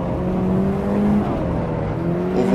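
A Golf GTI 16V in a hill-climb racing simulator revs hard while its tyres spin, giving a steady, loud engine drone with rising tones and no talk over it.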